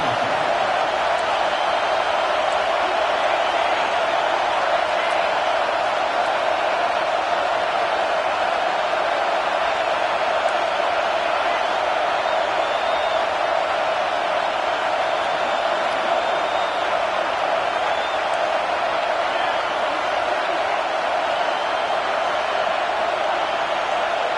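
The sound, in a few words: Utah student section crowd noise at football game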